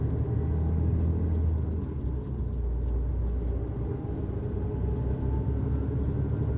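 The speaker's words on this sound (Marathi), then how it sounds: "लोडेड गाडी आहे फुल, त्यामुळे चढता चढत नाही," A fully loaded 40-ton truck with a trailer carrying two steel coils climbs a hill in Europe, its engine giving a heavy, steady low drone and rumble, heard from inside the cab without talk.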